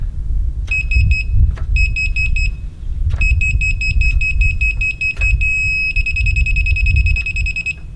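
A high laser level receiver beeps in short repeated pulses while a footer trench is leveled, then settles into rapid continuous beeping, over a loud rumbling outdoor background noise.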